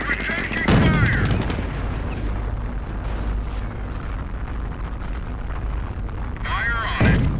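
In the video game Company of Heroes, a tank's main cannon booms twice, with steady machine-gun and rifle fire crackling between the blasts and battlefield voice lines.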